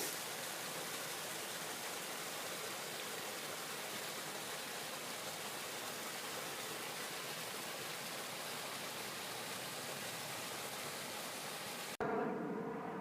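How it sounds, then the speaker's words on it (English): A waterfall below a hilltop ruin gives off a faint, steady, broadband rush that holds evenly for about twelve seconds and then cuts off abruptly. "There's a waterfall down there."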